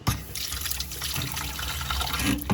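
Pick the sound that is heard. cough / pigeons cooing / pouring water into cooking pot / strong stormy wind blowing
pouring water into cooking pot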